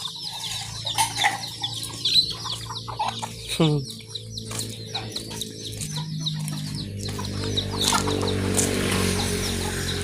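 Chickens clucking in a rural yard, close and repeated, with a burst of wing flapping and a steady low background hum.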